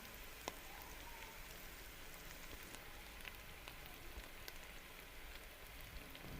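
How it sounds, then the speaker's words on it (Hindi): Garlic and onion sauté in a pan for a mixed potato and pea vegetable dish, a steady crackling sizzle with scattered sharp pops, fairly quiet and continuous with no voices. "डालने के बाद इसे 1 मिनट के लिए भूनेंगे, जिसमें हमारा लहसुन प्याज अच्छे तरीके से"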